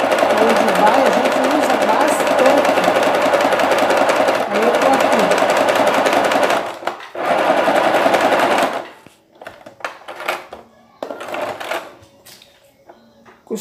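A sewing machine stitching face masks runs in a loud, steady mechanical whir for several seconds, then stops and restarts in short bursts, while someone talks over it.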